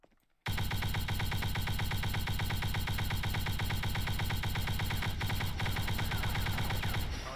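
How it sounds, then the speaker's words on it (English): Sustained rapid gunfire from Fallen Order weapons in the video game Garry's Mod: after a brief quiet start, a loud, dense, unbroken stream of shots runs for about seven seconds, with no talking. "I'm gonna go back to the Fallen Order weapons and just fire at him here"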